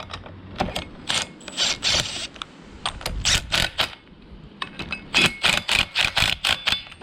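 Wheel bolts with thread lock being driven into a Toyota 4Runner front hub, heard as rapid bursts of sharp ratcheting clicks in uneven runs with short pauses between, close and alone.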